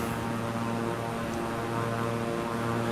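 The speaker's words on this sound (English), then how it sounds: "I don't know how much the sound of the airplane helps the aesthetic of the idea that we're in a plane." An airplane cabin sound effect plays as a constant low engine drone with a steady hum and faint hiss, even and unchanging throughout.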